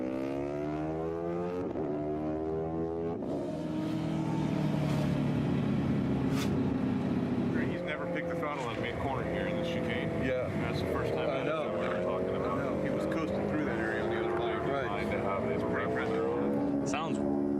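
A MotoCzysz racing motorcycle engine revs hard during a test ride, a loud harmonic whine that climbs and falls in pitch over a steady roar, with a person talking over it.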